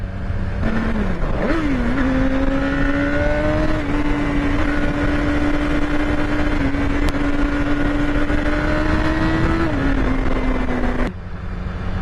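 A BMW S1000RR sport motorcycle engine starts and settles into a loud, steady idle, then revs up and drops back down before cutting off abruptly, with no one speaking.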